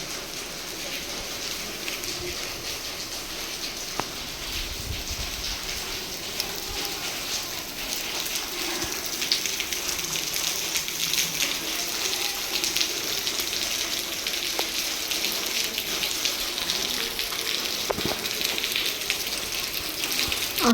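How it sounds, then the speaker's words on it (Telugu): Water pours and rushes steadily at Srisailam, a continuous broadband hiss like heavy rain that holds at an even, fairly loud level with no break. "వాటర్ ఇలా పడుతున్న సౌండ్ అయితే చాలా పీస్ఫుల్గా అనిపించింది నాకు"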